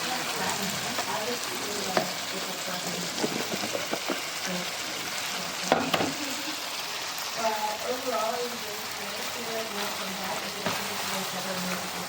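Callaloo, already cut and shredded, frying with vegetables in a pot, giving a steady close sizzle with scattered stirring clatter and brief sharper knocks, a voice talking intermittently over it.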